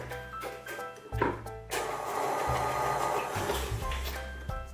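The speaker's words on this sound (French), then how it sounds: "ajouter mes 2 gros œufs un par un en battant entre chaque addition" An electric mixer beats eggs into cupcake batter, a buzzing motor whir that starts and stops in short bursts before running steadily, close up and without talk.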